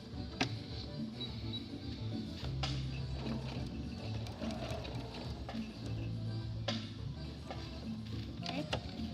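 A sewing machine stitches with a shortened stitch length while sewing an X on a beginner tote bag, giving a steady, close mechanical whir with quick ticking runs and brief pauses.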